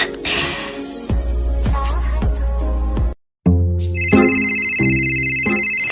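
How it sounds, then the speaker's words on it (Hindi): A phone ringtone plays loudly and close, a rhythmic electronic melody that breaks off for a moment of silence and then resumes with higher, brighter tones. "ओए फोन उठाना।"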